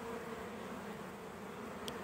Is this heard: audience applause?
no